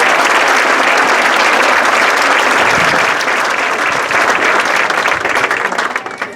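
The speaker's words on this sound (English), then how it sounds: "How about a round of applause for those students?" Loud, dense applause from a large crowd for band students at an outdoor band night, continuous and sustained before tapering off at the end.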